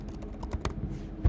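Quick, light keystrokes on a computer keyboard, typed close up in a soft, even rhythm for a brief moment.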